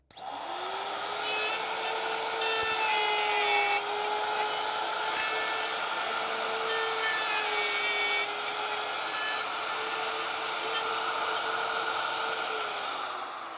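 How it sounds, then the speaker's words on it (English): Router fitted with a 14-degree dovetail bit cutting wood, a loud, steady high-pitched whine held close up for the whole stretch, with brief changes in tone as the bit bites into the workpiece, then winding down at the end. "When that router's coasting to a stop, don't lift it till it stops."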